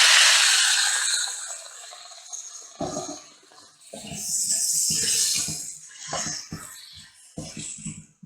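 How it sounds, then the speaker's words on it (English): A splash of water hits a hot stir-fry pan of peppers, beans and baby corn for a cauliflower dish, giving a loud sustained sizzle and hiss that fades, followed by intermittent clatter and stirring noises close by. "add a little splash of water for the steam."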